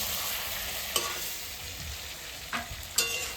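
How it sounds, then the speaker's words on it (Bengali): Fish sizzling steadily as it fries in a pan, with a few sharp scraping clicks of a spatula stirring it, the hiss constant and close throughout. "এবার আমি মাছটা সুন্দর করে নেড়ে চেড়ে নেব"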